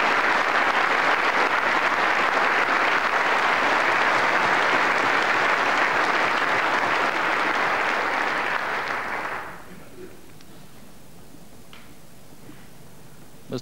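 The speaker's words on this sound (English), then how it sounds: "Applause for Donald Dewar." Applause fills the chamber at the official opening of the Scottish Parliament in 1999 for First Minister Donald Dewar, a dense, loud, sustained crowd clapping that cuts off abruptly after about nine seconds, leaving a quiet room with faint ticks.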